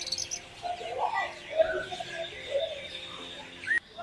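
Birds in a park chirping and calling in short, scattered bursts over a soft outdoor background, fairly close and moderately loud, with no talk.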